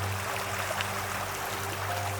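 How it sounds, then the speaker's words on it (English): The Quatse River in Northern BC flows beside a campground, a steady broadband rush of moving water with a low hum beneath it, continuous and fairly close. "Our campground sat along the Quatso River."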